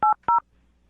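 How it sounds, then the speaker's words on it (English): A telephone being dialed: two short DTMF keypad tones in quick succession, clear and close, with quiet afterward and no talking. "I'm going to dial the phone right now."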